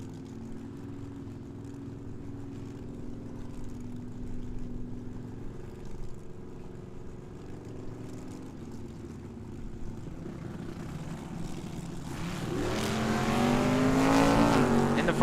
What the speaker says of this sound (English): First pair out going to be Sean Brewster, the Fiat Altered for Team Green Goes, dialed 622